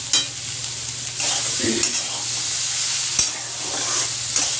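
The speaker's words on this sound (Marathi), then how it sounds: "आपण अजून एक दोन मिनिटभर परतून घेऊया म्हणजे छान दाणे भाजतील" Salted corn kernels roast in a little oil in a pan, a continuous close sizzle broken by repeated scraping stirs of a spatula, with no one talking.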